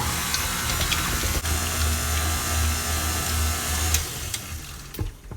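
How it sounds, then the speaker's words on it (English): A KitchenAid stand mixer with its mixing attachment churns sourdough starter and fats, giving a steady low mechanical whir with faint rhythmic knocking and clicks, close and continuous for several seconds before easing off near the end. "I like to use this mixing attachment on my KitchenAid, and so mixing the starter and the fats together"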